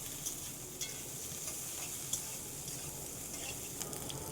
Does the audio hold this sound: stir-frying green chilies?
yes